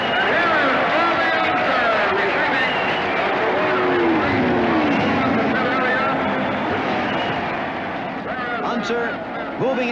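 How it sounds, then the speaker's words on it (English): Race cars at the finish of the 1968 Indianapolis 500 roar past in a continuous loud, dense engine drone with rising and falling pitches, while an announcer's voice talks over the din. "That was Gurney getting the checkered flag for second place"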